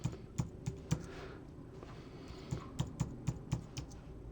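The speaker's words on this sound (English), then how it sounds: "So I'll just enter my PIN in." Keys are tapped on a computer keyboard to enter a PIN for smart card login on macOS, a run of distinct, close, quiet keystrokes in two short bursts separated by a pause.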